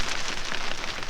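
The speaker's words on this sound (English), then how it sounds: "If you ever wonder how it sounds like inside of the camper when it's raining," Rain drumming on the roof of a truck camper, heard from inside as a dense, even patter with no voices, loud and close over a short stretch.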